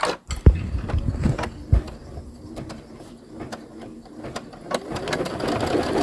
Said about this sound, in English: then go ahead and stitch, and that's going to do your 1/4 inch seam allowance